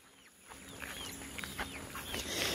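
Chickens cluck in short, repeated calls at a moderate distance over a steady background hum.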